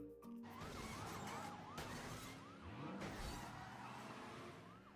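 Police car sirens wail in a Spider-Man city street chase after two thieves, rising and falling sweeps layered over dense traffic rumble and action-scene noise, loud and continuous.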